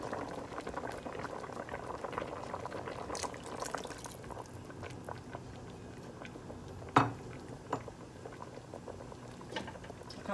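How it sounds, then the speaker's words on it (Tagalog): Salmon sinigang broth simmers in a pot, a quiet bubbling patter with a soft thump partway through, faint and continuous with no voices. "antayin natin kumulo"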